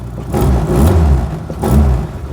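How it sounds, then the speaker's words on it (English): A 1999 Reliant Robin's small engine, heard from inside the cabin, rises and falls in two loud surges, with a rough, breathy edge from an exhaust that may be blowing. "sounds like the exhaust might be blowing a little bit"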